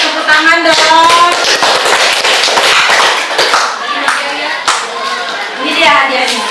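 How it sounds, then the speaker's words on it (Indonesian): Brisk applause from a group of hands clapping fills the room at close range, steady and loud throughout, with children's voices calling out over it. "Boleh, tepuk tangan dong."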